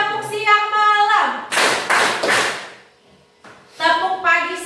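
Pupils in a classroom clap a rhythmic pattern in unison on command, several sharp, snappy claps close together. A voice leads before the claps and resumes afterward.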